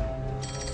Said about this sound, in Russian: Телефон врача начинает непрестанно звонить